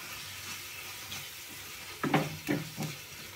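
Turmeric and chili powder fry in oil for an Andhra-style drumstick curry, a constant low sizzle followed by a few louder scraping stirs of the spoon near the end.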